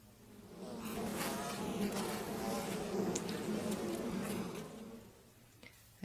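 Bees from the movie Blade Runner 2049 drone in a steady, dense swarm buzz lasting several seconds, with faint bits of other film sound layered over it before the hum fades near the end.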